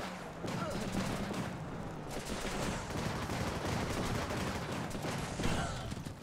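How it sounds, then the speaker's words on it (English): Dense gunfire and grenade blasts rattle almost without pause in the war video game Running With Rifles, with overlapping machine-gun bursts and heavier thumps, loud and chaotic throughout. "Goddamn grenades."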